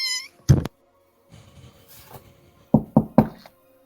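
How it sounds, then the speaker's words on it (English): Several sharp knocks on a wooden door, one early single rap then three quick evenly spaced raps near the end, close and clear, with a cat meowing at the start and faint rustling in between. "And I knock on the door."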